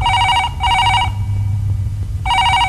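Telephone bell ringing in a home scene from a Telugu film, loud repeating trills in two bursts with a pause between, over a low steady hum.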